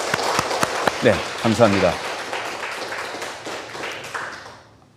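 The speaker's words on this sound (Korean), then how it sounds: "박수로 환영하겠습니다." A church congregation claps in welcome, with a few loud claps near the start before the applause thins and fades out. Someone speaks briefly over the clapping.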